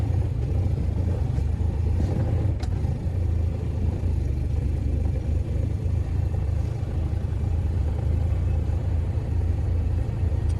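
Low, steady engine rumble from a vehicle creeping forward while stuck, continuous and fairly loud with no clear revving peaks, heard alone without talking.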